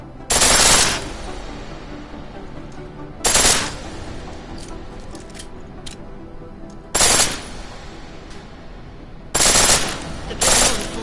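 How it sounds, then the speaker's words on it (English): Pistol fired in full auto in Deus Ex Mankind Divided, four loud rapid bursts of shots separated by pauses filled with low game ambience. "The pistol in full auto will take down targets fast, but it'll burn through."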